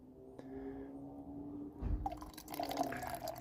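Water splashes and trickles into a camping pot, up to the one-litre mark, starting with a thump and continuing as a bubbly, gurgling pour.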